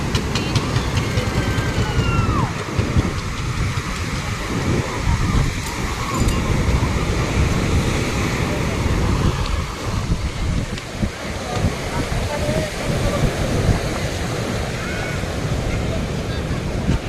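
Sea waves at the Somnath temple shore, a broad continuous wash of surf mixed with gusty wind buffeting the microphone, with people talking intermittently nearby.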